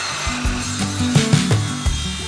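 A wooden board being cut to 40 by 20 centimeters for a small footrest stool, with close, loud, uneven grinding and shifting tool tones and a few knocks.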